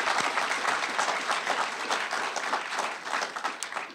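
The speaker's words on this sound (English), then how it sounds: "Let's give them a round of applause for the work that they do" Warm, sustained applause for county employees at a Montgomery County budget address, many people clapping in a dense, even roar that stays strong and slowly eases toward the end.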